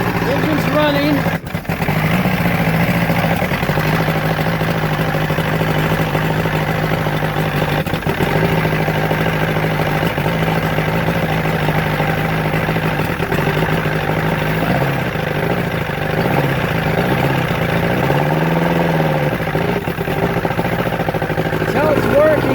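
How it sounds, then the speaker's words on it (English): A Johnson two-stroke outboard boat engine runs steadily throughout, a loud continuous drone with a fairly even idle, while a person talks over it. "Engine's running."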